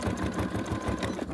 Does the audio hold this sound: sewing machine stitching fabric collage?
yes